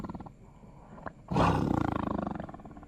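A tiger roars as a sound effect, one loud, rough, pulsing roar that comes after a quieter stretch and a brief low growl, then fades out slowly.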